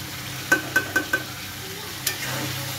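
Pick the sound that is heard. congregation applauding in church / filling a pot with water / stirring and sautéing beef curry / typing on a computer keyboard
stirring and sautéing beef curry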